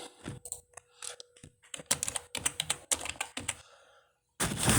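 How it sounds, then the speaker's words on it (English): Keys on a computer keyboard clatter in quick irregular bursts of close, crisp clicks, pausing briefly before a louder rustling noise at the end; no one speaks. "I'm gonna type Dracula in right here"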